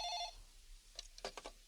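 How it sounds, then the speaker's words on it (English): A telephone rings once in a doctor's office, a short bright electronic trill that stops quickly and is followed by faint, indistinct background sounds. "Joanna answers the phone"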